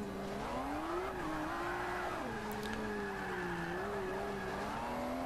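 A tuned car in the racing game Forza Motorsport 5 pulls hard, its engine note rising and falling steadily through gear changes, loud and continuous with faint tire squeal.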